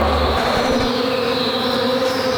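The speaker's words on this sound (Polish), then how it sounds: "Słuchajcie, komar." A steady, close mosquito buzz drones without a break for a couple of seconds, loud and unchanging.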